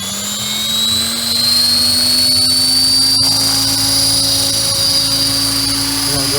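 A radio-controlled model helicopter's main rotor whirs steadily and loudly close by as it spins up to medium speed, a sustained turbine-like whine layered over a low rotor hum.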